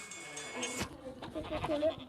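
A Minecraft sheep bleats a few times against a faint hum and soft clicks, the calls short and slightly wavering, with no talking.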